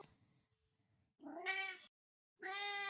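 A person imitates a cat with two drawn-out meows, separated by a short silence. Faint background noise comes before them during a tabletop Dungeons & Dragons session among friends.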